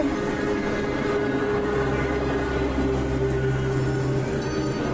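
A train runs at night with a steady, loud rumble and low mechanical drone, a sustained hum rising partway through, and no voices over it.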